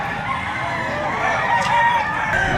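Roosters crow at the Padre Garcia livestock auction market in Batangas, with drawn-out crowing rising over a steady, busy background of other fowl and crowd noise.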